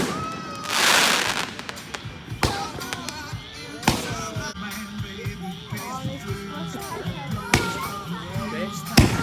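At a backyard Fourth of July fireworks display, a mortar firework bursts with one loud blast early on, followed by scattered smaller pops and bangs. Voices talk throughout underneath.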